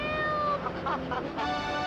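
A cat meows in a Pogo game advertisement, a few short, clear, high meows in quick succession over busy game music and sound effects.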